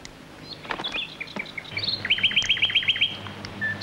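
A pet bird chirps in a quiet room: scattered high tweets, then a rapid rhythmic trill of repeated notes, close and fairly clear over faint background noise, with no talking.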